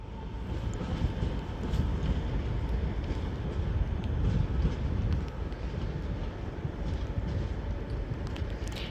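Northern Class 323 electric train 323227 at Manchester Piccadilly, a continuous heavy rumble and roar of the train running through the station, loud and steady for several seconds, with no voices.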